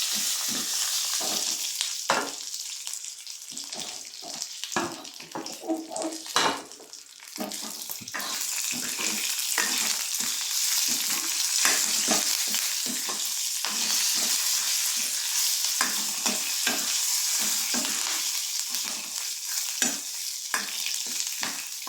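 Steady hissing sizzle of tempering spices frying in hot oil in a pan, with frequent stirring clatters and scrapes throughout, close and fairly loud.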